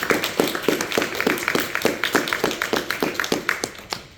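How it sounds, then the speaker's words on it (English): Panel event audience giving a round of applause, a modest group of close hands clapping in a quick, steady rhythm that thins out near the end. "Can we give our panelists a round of applause?"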